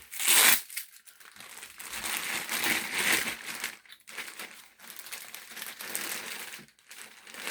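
Loud crinkling and crumpling of plastic packaging from a parcel of grapevine seedlings in repeated bursts with short pauses, close up, no talking.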